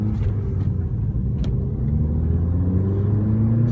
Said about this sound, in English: Obviously you can hear the exhaust purring away out the back